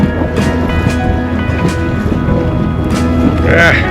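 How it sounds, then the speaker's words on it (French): Gusting wind and breaking waves roar steadily around a small inflatable tender boat, with water sloshing and broadband noise throughout; a voice can be heard faintly underneath. "Il y a du vent, il y a de la vague"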